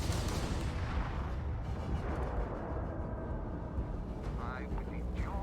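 Heavy turret gunfire in Starfield, a continuous barrage of booming shots and blasts layered over a dense rumbling battle din, with a voice talking over the combat.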